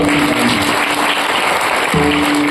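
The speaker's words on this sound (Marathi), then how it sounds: "त्यांच्या आईवडिलांकरता आणि त्यांच्याकरता जोरात टाळ्या म्हणा." Loud applause from the audience at a devotional kirtan gathering, dense, close clapping that fills the short moment, with a low hum running underneath.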